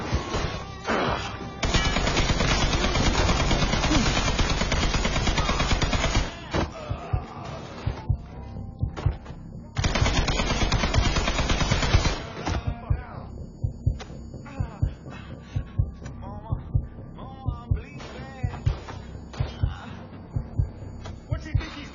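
Gunfire in a Mafia 3 mission: two long, loud, sustained volleys of rapid shots, then a string of sharper single shots and bangs at irregular intervals under lighter background sound.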